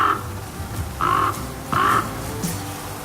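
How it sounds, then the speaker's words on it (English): Crows cawing in The Flame in the Flood survival game, a few harsh calls spaced about a second apart over a steady ambient bed. "Oh my, those birds are really noisy."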